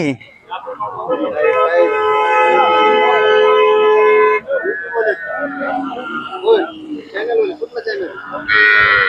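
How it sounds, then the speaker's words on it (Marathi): A Khilar cow moos loudly and at length at a Sangola cattle market in Maharashtra, one long drawn-out call followed by shorter lowing, with people talking nearby in the background. "समोर एक गाय बघताय खाली खोंड आहे"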